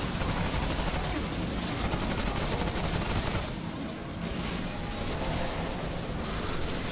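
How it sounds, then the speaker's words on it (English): Machine gun fire in the video game Remnant rattles in dense, rapid bursts, sustained and close with a brief dip midway. "Machine gun, machine gun, machine gun."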